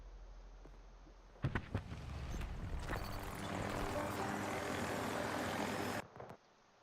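An attack helicopter in a video game roars up with a sharp thump, its rotor and engine noise building into a loud sustained drone that cuts off abruptly near the end.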